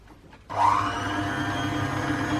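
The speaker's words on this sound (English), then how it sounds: "now I'm going to mix this lot together until everything is well combined" Gluten-free gingerbread dough with vanilla extract being mixed by an electric mixer, which starts abruptly and then runs at a steady, loud whir.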